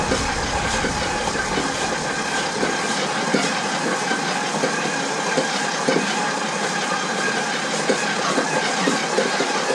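A stand mixer churns king cake dough while leaven is slowly worked in, giving a steady, continuous mechanical whir and rattling drone with no pauses or voices.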